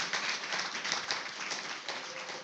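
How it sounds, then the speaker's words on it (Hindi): Congregation applause at a church service, a dense, steady wash of clapping from many hands filling the room, moderately loud with no voices. "प्रभु के लिए तालियां बजाएं।"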